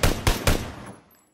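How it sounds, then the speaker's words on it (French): Three quick bursts of automatic gunfire in the battle-royale game PUBG on the Erangel map, close and punchy, with a short fading tail after the last burst. "Je mets des tirs de suppression"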